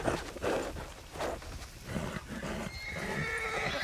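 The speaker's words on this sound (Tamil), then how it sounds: "அந்த குதிரை ரொம்ப பண்ணுது. கருப்பு குதிரை." A black horse in the Red Dead Redemption 2 video game neighs and whinnies several times in loud bursts, with hoof clip-clops and movement around it.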